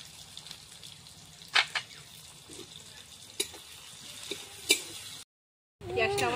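Panch phoron, the Bengali five-spice seed mix, frying in hot oil: a steady, fairly quiet sizzle with a few sharp crackles and pops, a brief dropout, then a louder bubbling hiss at the end.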